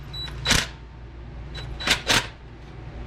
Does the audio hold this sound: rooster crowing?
no